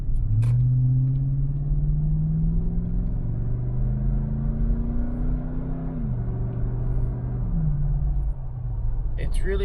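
A Lexus GX460 fitted with a custom MagnaFlow Overland Series exhaust, heard from inside the cabin with the windows up: a steady low engine drone that rises and falls through several gear changes, muffled but constant.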